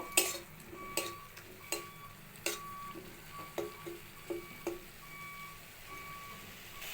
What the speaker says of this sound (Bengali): এবার অল্প জল দিয়ে ভালো করে কষিয়ে নেব মশলাটা ভালোভাবে